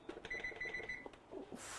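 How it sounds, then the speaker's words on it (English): An oven timer being set while bread pudding bakes at 350 degrees gives a run of short electronic beeps plus one sustained tone, close and clear, with a few soft clicks and no talk. "We're going to set our timer for 45 minutes."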